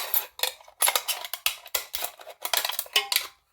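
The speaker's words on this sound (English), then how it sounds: "And then your scissors should cut the rest of it without any problem." Crisp scissor snips and rustling material repeat in a steady, uneven rhythm, close by, with faint clinks between the cuts.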